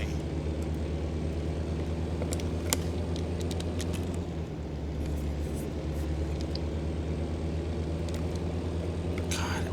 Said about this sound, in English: I just love the sound of this truck.